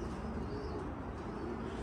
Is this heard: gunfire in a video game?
no